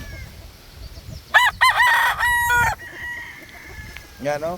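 Tethered gamefowl stags on a farm crow in loud, close bursts, one long crow followed by another starting at the end, while someone speaks briefly nearby.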